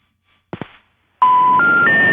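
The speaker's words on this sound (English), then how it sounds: "Hope I dialed the right number." Telephone touch-tone dialing: two quick tone bursts, a pause, then a steady loud sequence of rising tones stepping up in pitch, alone with no talk.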